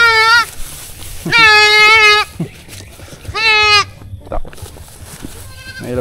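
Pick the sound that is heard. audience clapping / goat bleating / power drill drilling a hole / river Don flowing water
goat bleating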